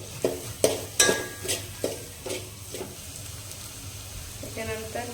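Chopped onion going into a pan of frying garlic, then stirred: a run of scraping strokes of a spoon over a steady sizzle, with a voice rising briefly near the end.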